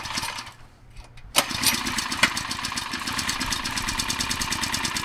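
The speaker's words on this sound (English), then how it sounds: "Normally this is the pump we use to pump all the fertilizer out of the tanks into the potatoes." A small gasoline engine on a fertilizer pump, normally used to move fertilizer from tanks for potato planting, here rigged to pump oil, catches after a short quiet lull and settles into a loud, steady rhythmic running close by.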